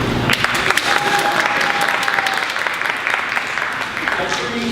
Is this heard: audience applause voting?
yes